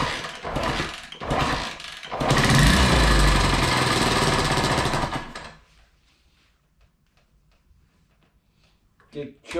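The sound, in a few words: Honda CT90 motorcycle engine starting after rebuild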